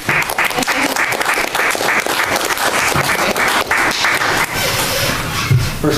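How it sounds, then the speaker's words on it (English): Audience clapping at a school district board retreat, loud and close, a dense continuous patter of many hands that carries on without pause and tapers slightly near the end. "Can we clap for that?"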